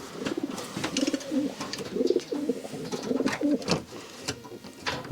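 Pigeon cooing at a Belgian racing loft, with repeated low throaty coos and soft wing flutters close by as a racing cock struggles and fights while being handled, no talk over it.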